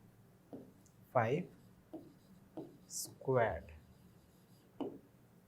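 Writing out a maths expression by hand, with short scratchy strokes in quick separate bursts, heard close and fairly faint, with a voice talking.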